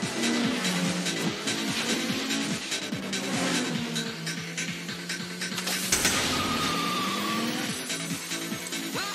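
Racing engines and skidding tires from a siege-weapon drag race in Age of Empires 2 sound as revving whines that rise and fall, with a squealing slide and a sharp burst near the end and no talk.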